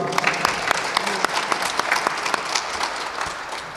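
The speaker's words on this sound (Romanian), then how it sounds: "Să o primim cu aplauze!" An audience at a conference applauds to welcome a guest speaker, dense and steady clapping throughout with a few sharper individual claps standing out.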